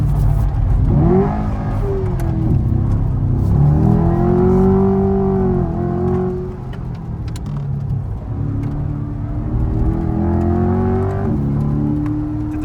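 A Chevrolet Corvette C8 supercar accelerating on a racetrack, its engine droning loudly with rising and falling pitch sweeps as it pulls through gears, close and continuous with no voices.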